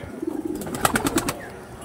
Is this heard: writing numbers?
no